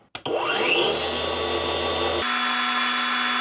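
A SKIL 3571XP cordless circular saw spins up to speed and runs freely, a sharp rising whine that settles into a steady high-pitched motor drone after a brief start-up.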